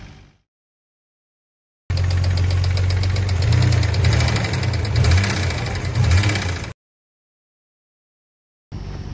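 Nissan Skyline R32 engine with a sudden blown engine runs with a rough, knocking rattle over a loud mid-pitched drone for several seconds, close and alone, bracketed by silence.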